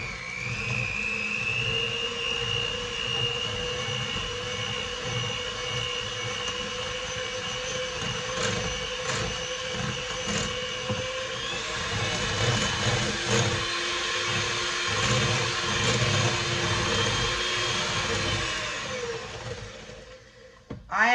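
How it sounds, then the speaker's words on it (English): Electric hand mixer drones steadily while beating two eggs into lemon blueberry loaf batter, its motor whine loud and continuous, shifting slightly in pitch as the beaters work through the mix before stopping. "There's 2 eggs, and there goes the beater again."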